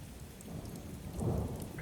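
Rain falls steadily through a thunderstorm, with a soft low rumble of distant thunder swelling briefly in the middle, faint and even throughout.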